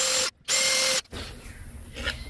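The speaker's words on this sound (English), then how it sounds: "I'm going to drill a few small holes" A power drill bores small holes into a window frame during restoration, giving two close, loud whining bursts separated by a brief pause, then falling quiet except for faint handling noise.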